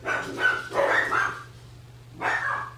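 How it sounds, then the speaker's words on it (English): Dogs bark in a few short bursts, fairly close, with a brief pause before a final bark. "my dogs are barking"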